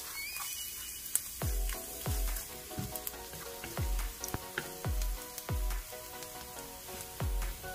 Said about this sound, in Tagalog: maglagay tayo ng cooking oil at painitin natin ito. Magsutay tayo ng garlic.